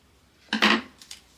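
Scissors snip through a sheet of comic-book paper in a quick close crunch of two or three cuts, followed by a couple of fainter snips in an otherwise quiet room.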